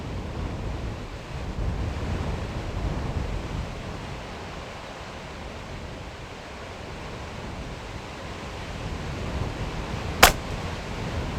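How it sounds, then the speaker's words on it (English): Strong gusty wind buffets an outdoor microphone with a steady low roar throughout, swelling and easing slightly, and a single sharp snap-like hit stands out near the end. "You can see the wind is pumping."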